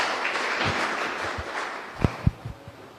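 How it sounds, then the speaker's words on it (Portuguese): A church congregation claps in praise, a soft, somewhat distant patter of applause with a few louder thumps near the end. "Vamos louvar o Senhor com as palmas, em nome de Jesus, pela vida da Mayra."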